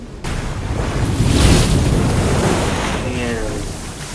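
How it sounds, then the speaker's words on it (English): Stormy ocean waves crash and surge in the film Cast Away, a broad roaring wash that swells loudest early on and keeps rumbling steadily, with a faint voice or tone briefly audible near the end. "Look at how angry those waves are."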